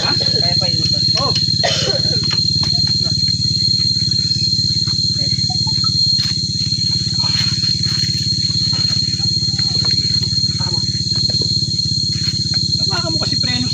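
A motorcycle engine runs steadily nearby, a low continuous rumble with a faint rise and fall and no sharp revs, while indistinct voices murmur over it.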